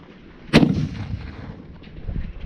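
A single heavy boom from an M2 .50 caliber machine gun on a firing range, a sharp loud blast that rolls off into a low rumble, with faint noise after.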